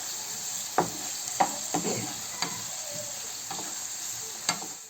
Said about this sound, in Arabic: زي ما انتم شايفين هيني بقلب في البصلات قبل ما يتبلوا